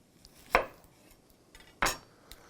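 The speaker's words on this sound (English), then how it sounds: "I'm going to cut straight down the middle" A knife cuts down through an onion on a board in two sharp, close knocks, with quiet gaps between and faint kitchen clatter.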